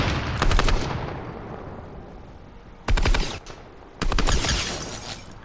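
Sniper gunfire rings out in a Fortnite match as three loud separate bursts of shots, each fading into a lingering tail with quieter gaps between them.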